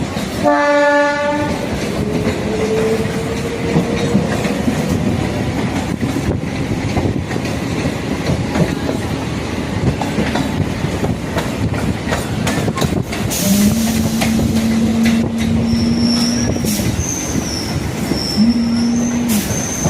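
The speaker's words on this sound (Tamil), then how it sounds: "அதுதான் பீச் தாம்பரம் சபர்பன் ட்ரெயின் வருது பாருங்கள்" A Beach–Tambaram suburban electric train rumbles past close by, wheels clattering on the rails, with a horn blast at the start and long sustained horn tones later.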